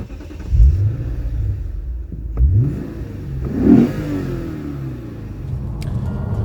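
A 2008 Lexus IS F's V8 engine revs in three deep, loud surges, heard close from inside the car with a steady rumble between them.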